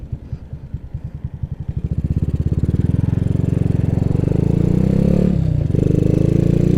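A Honda W125RR motorcycle rides along a road, its single-cylinder engine thumping in a quick steady beat that rises as it picks up speed, close and loud, with a brief dip near the end.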